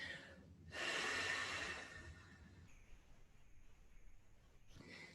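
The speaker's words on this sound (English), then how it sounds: "I'm taking my breath." A deep, slow breath during meditation, one long, close airy inhale swelling and then easing off, followed by quiet room tone.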